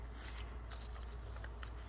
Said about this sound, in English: you're going to take and turn it over, and you're going to fold this up